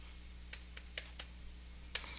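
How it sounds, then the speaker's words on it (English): A four-digit PIN being typed on a computer keyboard to sign into a PC, heard as a handful of light, separate key clicks spread irregularly over about two seconds, faint and alone over a low steady hum. "I'm gonna go ahead and type in a digit code"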